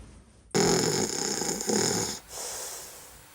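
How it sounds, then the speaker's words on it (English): Loud, raspy snoring with a harsh drawn-out inhale, a brief pause, then a softer continuing snore; close and fairly steady. "Snoring very loudly."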